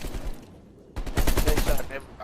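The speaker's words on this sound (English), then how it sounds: "They shot everybody." Gunfire in Call of Duty Black Ops Cold War: quiet at first, then from about one second a dense burst of rapid shots fills the rest, loud and close, with game noise beneath.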